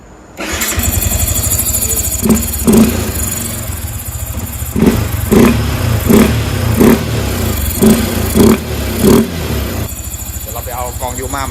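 A Yamaha Exciter 155 VVA motorcycle with no air filter starts up and idles loudly, then gets a series of about eight quick throttle blips, each rev rising and dropping back, while a voice speaks over it.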